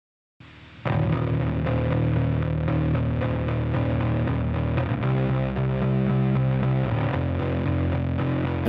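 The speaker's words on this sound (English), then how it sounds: "Why would you want that much distortion?" Heavily distorted song playback from a Logic project, a dense saturated mix of sustained chords and rhythm running loud and continuous after a brief quiet start, with no voices.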